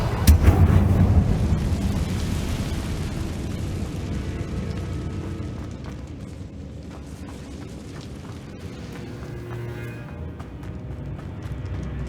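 A Confringo fire spell blast in the Hogwarts Legacy video game: a loud booming burst at the start that rolls into a long, rumbling, gradually fading eruption lasting several seconds, with no speech.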